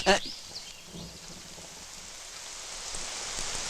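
Steady, dense hiss of heavy rain pouring down nearby, with a short louder burst at the start and the downpour swelling slightly toward the end.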